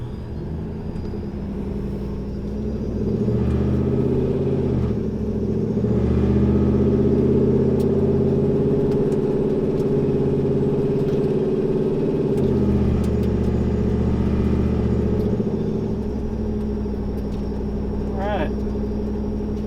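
A TorqStorm-supercharged 4th-gen Ram truck engine running on methanol injection revs in sustained, heavy rumbling hits that rise and hold before easing off, loud and close, with a voice talking briefly near the end.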